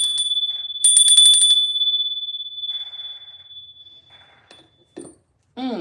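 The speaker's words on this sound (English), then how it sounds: "let's ring that bell and let's do our call-in" A bell rings with a bright, sustained metallic tone that sounds loud and alone for several seconds, then fades out before a short voice breaks in at the end.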